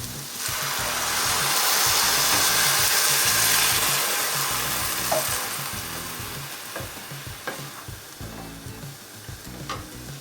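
Spices sizzle loudly in a pan with stirring scrapes for a zucchini dish, then the frying hiss softens and drops off as milk goes in, leaving quieter bubbling and occasional utensil taps.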